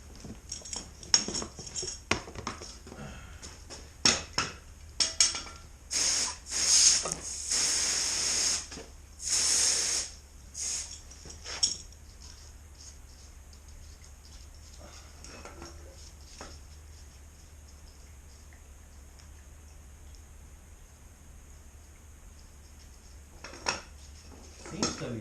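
A rusty brake part from a 280Z rear disc brake conversion is rinsed after electrolysis: bursts of hissing spray and splashing water with metallic clinks, loudest early, then quieter handling noises.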